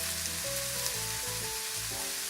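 Oil heating in a wok-style pan, a loud, constant close-up sizzle and crackle with a faint tonal hum underneath and no talk.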